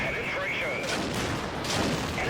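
Rapid gunfire from a low-caliber gun in a tank video game, a dense continuous burst of shots with booming bursts layered over a thick, loud mix.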